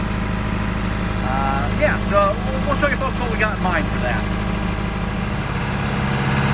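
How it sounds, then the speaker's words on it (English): A John Deere 2510 tractor runs wide open at about 2,500 RPM on a cold, snowy day, a steady low engine drone under close conversational talk. "pretty much running the tractor wide open here, everyone, so I keep the heat going here"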